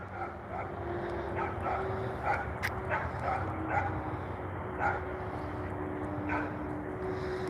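Dogs yip and bark in short scattered bursts outdoors during a walk on a pleasant day, fairly distant and mixed into steady ambient noise, with faint hum in the background.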